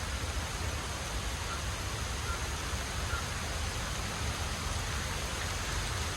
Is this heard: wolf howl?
no